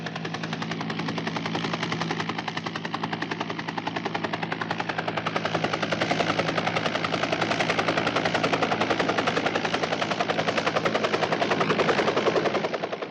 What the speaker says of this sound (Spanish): especialista también en helicópteros, hacía las señales precisas para que la nave se posara en el sitio idóneo